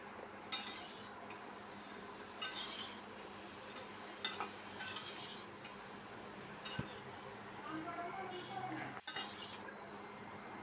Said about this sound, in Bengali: লাউয়ের সঙ্গেও মশলাটাকে একটু কিছুক্ষণ নেড়ে চেড়ে কষিয়ে নিচ্ছি।